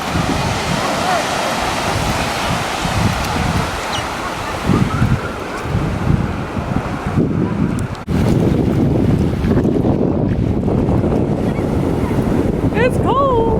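Strong wind blows steadily across an open stretch of Nauset Beach, with heavy buffeting rumble and gusts hitting the microphone, surf likely mixed underneath, and a few brief voices faintly audible.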